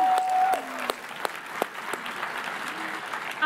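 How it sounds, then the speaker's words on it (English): A church congregation applauds during a Resurrection Sunday service, a steady wash of clapping from a sizeable crowd with no voices over it. "Let's give Jesus a hand"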